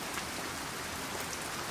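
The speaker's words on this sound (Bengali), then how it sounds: "বৃষ্টি হচ্ছে।" Rain falls steadily on a rainy day, a soft, even hiss that stays faint and continuous throughout, with no voices.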